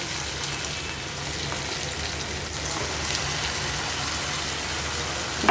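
Spice masala sautéing in a pan while being cooked down, a soft continuous sizzle with a hissing, rain-like texture, steady and fairly quiet throughout with no talking.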